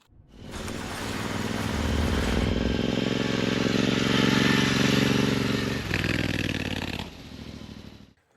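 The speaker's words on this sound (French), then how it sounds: "je vais te présenter la moto de Gilles, un abonné. C'est une Royal Enfield classique 500." Royal Enfield Classic 500 single-cylinder motorcycle idling close by outdoors, a steady low thumping rumble that starts abruptly, shifts in tone midway with a brief rev, then drops off near the end.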